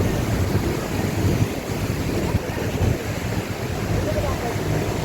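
Water gushes out through the open gates of Khandoli dam in a loud, continuous roar with wind buffeting the microphone and no break.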